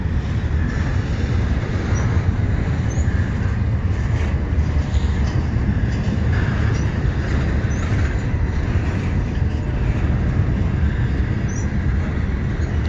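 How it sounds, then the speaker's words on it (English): CSX double-stack intermodal freight train passing close by, a loud continuous rumble of wheels and rail cars with faint squeals, steady throughout. "That's a really long train."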